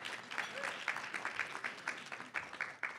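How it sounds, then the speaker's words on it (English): An audience at a peer mediation celebration gives a round of applause, a fairly faint, continuous patter of clapping with scattered louder claps, heard from a moderate distance. "Give yourself a round of applause for being here"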